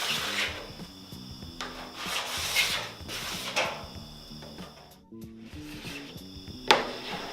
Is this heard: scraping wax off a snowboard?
yes